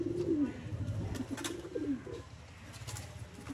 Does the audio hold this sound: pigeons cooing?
yes